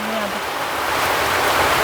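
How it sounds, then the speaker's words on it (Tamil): Heavy village rain in the Vanni region pours down loud and close, a dense, unbroken roar of water with a brief voiced tone at the very start. "மழை அடிச்சு பெய்யுது"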